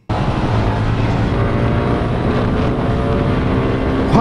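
Motorcycle engine from a 2024 Yamaha R15 or Honda CG Titan 160 on a ride, a loud steady drone with dense rumbling harmonics held without a break from start to finish and no voices over it.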